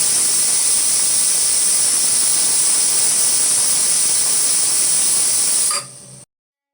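A pressure cooker cooking bhagar and potatoes lets off a loud, steady, high hiss of escaping steam that holds for several seconds before cutting off abruptly.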